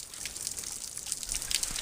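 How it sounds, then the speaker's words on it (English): Fresh mountain stream water flows close by in an Appalachian setting with a continuous bright splashing gush and trickle, steady and fairly loud throughout. "this is going to be my next water source right here. So fresh off the mountain"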